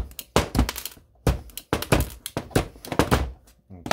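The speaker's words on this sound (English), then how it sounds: "Ratchet cut this off." A ratchet cable cutter cutting through electrical cable, giving a series of sharp, close clicks and thunks in an uneven rhythm, alone without talk.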